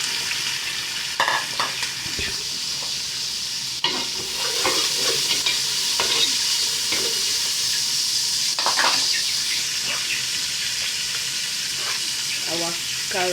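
Green pepper and carrots stir-fried in a pan for fried rice, with a steady loud sizzle and repeated scraping stirs and clinks over about thirteen seconds, and faint background noise.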